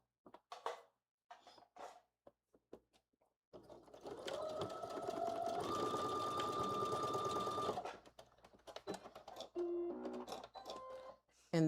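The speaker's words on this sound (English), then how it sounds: "I'm going to baste that at 1/4 of an inch again, like I did for the last one." A sewing machine runs a steady basting seam on fabric for a fanny pack, a close continuous whirring hum lasting about four seconds, framed by soft handling clicks and rustles of the material.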